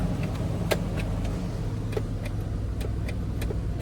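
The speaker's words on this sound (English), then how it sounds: "Engine sounds pretty good." A high-mileage, previously totaled Cadillac Escalade's engine hums steadily and low while driving, with faint scattered clicks and rattles inside the cabin and no speech.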